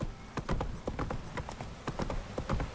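Horse hooves clip-clop at a gallop in The Witcher 3 video game, with a rapid, steady rhythm of loud, close strikes and a brief whinny-like sound mixed in.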